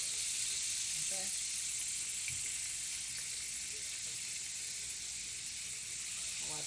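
Butter melting in a pan gives off a steady, loud frying sizzle and hiss, with a few faint clinks and bumps from the cookware underneath.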